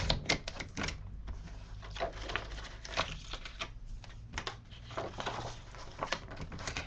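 Scissors snip through paper for a scrapbook layout, a quick run of close, crisp rustling cuts in an uneven rhythm, with no talk.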